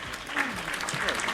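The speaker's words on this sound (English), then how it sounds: "There's applause." Brief burst of applause from a small group, heard close with voices and chatter mixed in throughout.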